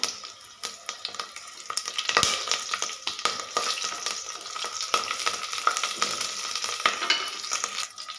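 Green chillies and curry leaves sauté in oil as tempering for coconut milk rice. A crackling sizzle runs under repeated sharp scrapes and taps of a spoon stirring the pan, fairly close, with no talk.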